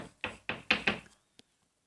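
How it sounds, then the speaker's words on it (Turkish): Zombies bang on a door in a video game, four heavy knocks in a steady rhythm, loud and close, followed by a faint single tap and then quiet. "Kapı kırıyorlar galiba. Yine geldiler."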